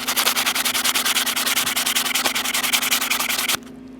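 Medium-grit sandpaper rubs rhythmically back and forth over a steel buttplate from a German Kar 88 rifle, a rapid, even rasping of loud close strokes that stops abruptly near the end.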